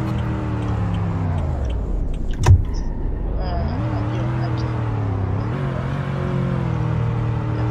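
A truck in Roblox Greenville drives and maneuvers to park, its engine humming steadily with a pitch dip and rise as it slows and pulls in, plus a brief sharp click partway through; a voice talks over it.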